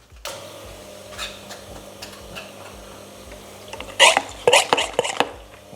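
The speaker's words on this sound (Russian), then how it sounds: "Включаем компрессор." A compressor runs for vacuum filtration with a low, regular thumping pulse. Sharp clinks and rattles of glassware handling follow near the end.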